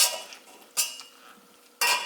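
Soft squelching scrapes of drained cooked cauliflower being mashed in a pot, in three short bursts with quieter mushy scraping between them, close and moderately loud with no talk.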